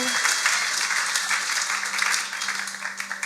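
A church crowd claps and cheers for Jesus at a French and Swahili worship service, loud steady applause filling the room alongside sustained voices.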